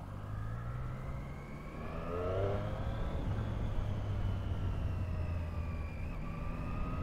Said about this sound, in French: Alors on va se faire un petit 0 à 100.